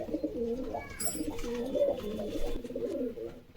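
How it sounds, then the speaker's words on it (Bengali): Pigeons of several breeds coo close by in a loft, overlapping throaty rolling calls repeating steadily, with a brief high chirp partway through. "কবুতর দারুণ আছে"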